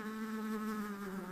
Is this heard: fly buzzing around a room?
yes